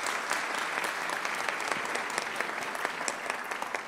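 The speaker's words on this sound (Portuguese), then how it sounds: "Uma salva de palmas, por favor." A crowd at a legal conference panel on tax clearance certificates claps continuously, a fairly even wash of applause heard from a slight distance, with no voices standing out.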